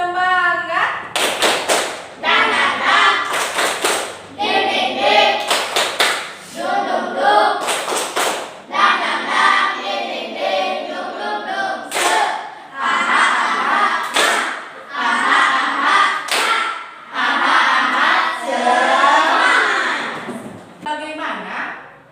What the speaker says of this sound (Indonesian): Masih ingat tepuk semangat? Ayo kita mulai. Tepuk semangat.